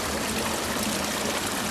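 A small creek flows through a canyon, its water rushing and burbling steadily, close and fairly loud as one unbroken wash of sound with no voices.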